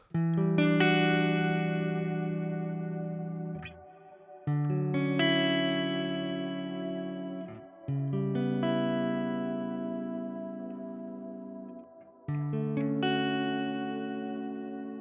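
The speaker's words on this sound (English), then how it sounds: "So this is how the reverb itself sounds like." Clean guitar chords ring out in several strums, each washed in a long, spacious Aftermath reverb preset tail that slowly decays; no voices.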